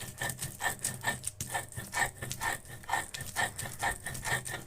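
Washed and fried ingredients are ground into a paste by hand on a grinding stone, a rhythmic series of close, scraping rubs repeating about twice a second, soft and steady with no talking.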